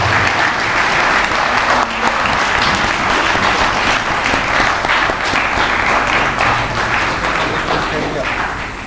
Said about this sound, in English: Can we have the big round of applause?